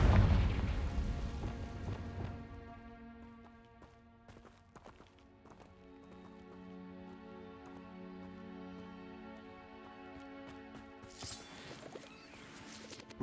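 The Confringo fire spell from the game Hogwarts Legacy, a loud explosive burst at the start that fades into a long ringing, humming magical tail, ending with a sharp bright crackle.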